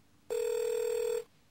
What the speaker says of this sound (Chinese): 给我妈打个电话。